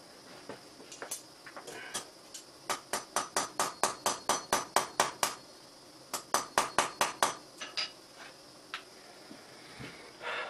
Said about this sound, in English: So I'm going to bend this and hammer it really quick